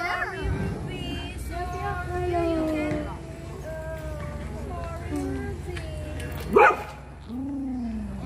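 Small dogs bark and yip during a walk, with bursts of barking mixed among steady talking, then a sharp louder bark near the end.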